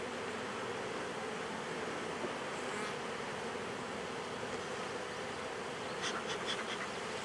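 A large swarm of honeybees buzzes steadily around a hive frame, a dense continuous drone close by with no speech.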